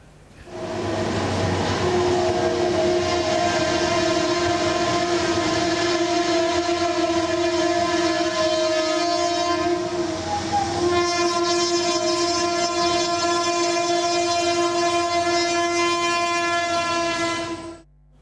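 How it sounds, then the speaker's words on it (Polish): A train passes through the city of Buenos Aires, sounding its horn in one long, loud, steady blast that holds for over fifteen seconds with the rumble of the cars beneath it. "przejazd pociągu przez miasto jest czymś zupełnie niebywałym"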